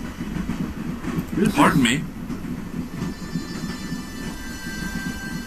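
Train rolling along rails in the video game Broken Sword, a low continuous rumble of wheels with a brief swelling whoosh partway through, while a person speaks briefly over it.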